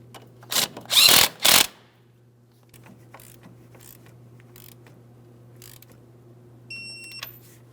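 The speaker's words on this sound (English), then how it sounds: "go ahead and start on your castle nut. Once it's started on, snug it up and torque it to 36 foot-pounds" A ratchet tightens a castle nut on a tie rod end of a 2003-2008 Toyota Matrix steering rack, making three short, loud, close bursts of clicking, then near-quiet with a few faint ticks.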